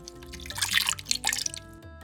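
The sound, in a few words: water poured into buttermilk pot from rinsed jar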